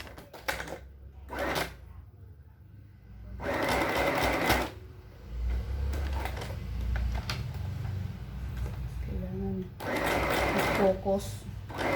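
A sewing machine with a size 14 needle stitches a three-layer t-shirt neckband in loud, rapid whirring bursts of a second or so, broken by pauses filled with a low hum and handling noise, with a voice talking in between.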